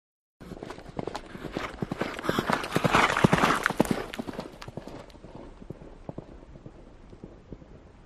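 Horse hooves clip-clopping as a fairy tale sound effect, a rider in armour mounting and setting off; steady rhythmic hoofbeats swell louder in the middle, then continue more faintly and evenly toward the end.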